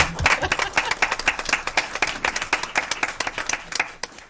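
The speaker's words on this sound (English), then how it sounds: "we're given a real clap" A small group at a school board meeting claps for the HR department, individual hand claps audible in a brisk, uneven patter that stays at a moderate level throughout.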